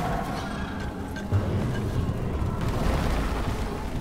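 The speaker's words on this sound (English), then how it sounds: "Incendiary grenade!" An incendiary grenade goes off in Deep Rock Galactic, a thick, steady low rumble of burning blast that swells slightly past the midpoint and roars on without a break for the whole stretch.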